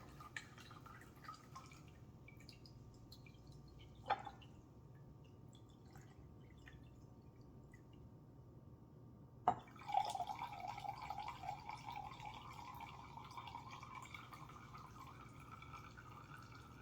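Herbal tincture liquid trickling and dripping through a cheesecloth strainer makes quiet isolated drips, then a faint, steady close trickle in the second half.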